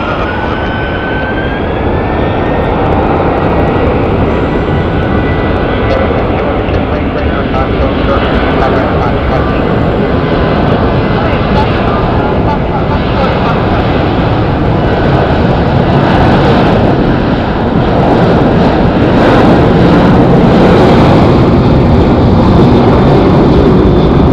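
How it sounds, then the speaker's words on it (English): A six-year-old Southwest Boeing 737-800 bound for Long Beach takes off at Phoenix Sky Harbor with a loud, sustained jet roar that holds and swells slightly, with voices over it. "Southwest 2870 going to Long Beach, California. It's a Boeing 737-800, 6 years old."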